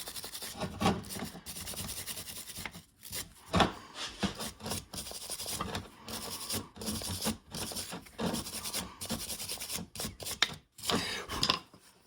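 Close, irregular scrubbing and rasping strokes as the top of an XT500 rear shock cylinder is cleaned by hand during refurbishment, coming in uneven bursts with brief pauses between them.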